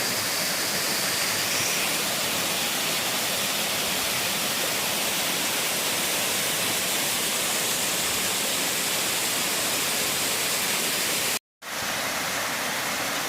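Wynoochee Falls pours in a steady, dense roar of rushing water, close and unbroken, with a brief cut to silence near the end before the roar resumes.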